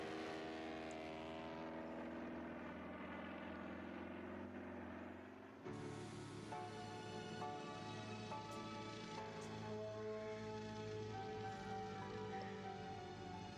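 Propeller plane flying in a Biggles film, a continuous loud droning engine hum with steady tonal whine, shifting in pitch partway through as the aircraft levels out, mixed with music-like tones.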